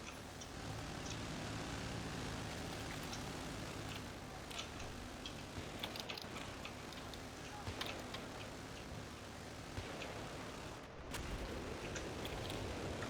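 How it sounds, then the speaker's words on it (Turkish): Helicopter approaching during a Battlefield 3 match: a steady, loud rotor-and-engine roar fills the whole stretch, with scattered sharp in-game clicks and thuds and no talking. "Helikopter geliyor dikkat et."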